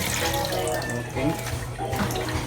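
Chicken intestines being washed under a running tap, a steady hiss of flowing water with splashing and handling sounds, close by, with faint voices in the background.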